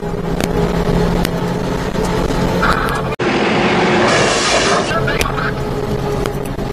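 A mini truck's engine roars at wide open throttle during a race against a Tiny Tonka truck, a loud continuous drone that holds for the whole stretch with a brief cut near the middle, with voices talking over it.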